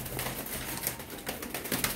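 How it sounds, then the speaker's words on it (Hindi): Champion Zakh pigeons cooing softly in a loft, a low murmuring of birds close by under a steady background hiss, with no voices. "ये हैं जी हमारे आशिफ भाई के कबूतर और जाख कबूतरों की जिनकी बातचीत कर रहे थे।"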